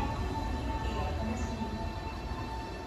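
Steady rumble of a Nankai limited express train arriving at the Sakai Station platform, a continuous loud drone with faint metallic squeals above it; no speech.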